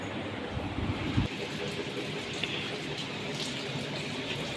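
Sudden heavy rain falling steadily at midday, a dense, even wash of drops close by with a brief louder splash near the start and no voices.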